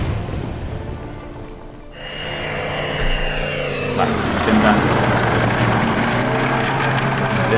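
Aircraft engines in the strategy game Order of Battle: Panzerkrieg, a rising propeller drone that swells and holds as planes move off, with someone talking briefly over it.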